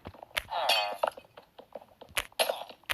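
Glass breaks and clinks while a room is being cleaned up after a birthday gathering, with a bright shattering burst followed by sharp clinks and rattles of shards, up close, amid scattered sounds of movement.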